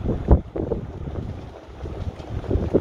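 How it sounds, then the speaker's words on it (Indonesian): Distant sea waves wash onto the beach at Bagan Lalang at night around low tide, a soft, steady rumble mixed with wind noise on the microphone, with one louder surge near the start. "Layan bunyi ombak jauh."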